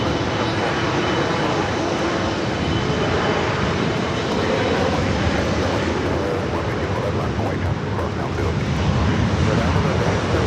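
Airliner departing LAX on flight 18 to Seoul: a loud, sustained jet engine roar fills the whole stretch at a constant level, with wind buffeting the microphone.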